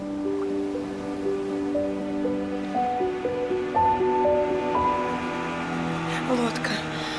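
Soft sea waves wash steadily in the background beneath a slow melodic tune, with a voice speaking over the gentle surf.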